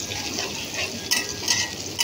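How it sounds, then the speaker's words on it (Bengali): Egg bhuna stir-fried in a pan, a soft continuous sizzle with a few quick scraping stirs and utensil clinks, brief and moderately quiet. "এখন আমি ডিম ভুনা করে নেব।"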